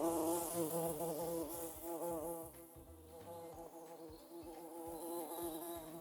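Bumblebee buzzing steadily and close, a continuous droning hum that wavers slightly in pitch and loudness, heard alone.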